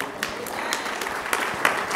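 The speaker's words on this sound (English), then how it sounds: "give the Lord a big hand clap of praise" Church congregation clapping hands in praise, a dense, moderately distant patter of many hands with a few sharper claps standing out, steady for a couple of seconds.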